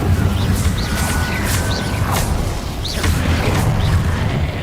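The Incendio fire spell is cast in Hogwarts Legacy gameplay: repeated whooshing magical bursts and booms land over a dense, loud game soundscape of rumble and effects, with no talking heard.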